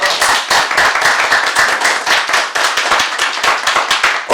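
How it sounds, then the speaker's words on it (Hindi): Loud applause from a crowd at a sales seminar, many hands clapping together in a thick, steady burst lasting about four seconds, with no talking over it. "एक बार जोरदार तालियां आप सब लोगों के लिए"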